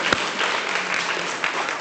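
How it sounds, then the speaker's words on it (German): Audience applause for a speaker, Dr. Mildenstein, at a cardiology conference lecture: a steady, dense wash of many hands clapping that fills the whole stretch at an even level, with no voices over it. "Jetzt gibt es erstmal einen Applaus für Dr. Mildenstein"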